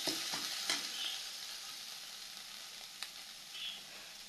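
Kharkol leaf paste fries in hot oil with a steady, faint sizzle while a utensil stirs it continuously, with a few scraping knocks against the pan.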